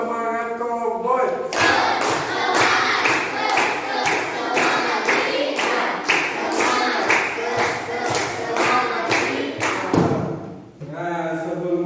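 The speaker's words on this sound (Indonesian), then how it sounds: "mari kita tepuk semangat terlebih dahulu agar lebih semangat dalam belajarnya" An Indonesian classroom of students performs the rhythmic tepuk semangat spirit clap, with a long run of loud, evenly spaced group claps and thumps and voices chanting along between them, and a short stretch of speech before and after.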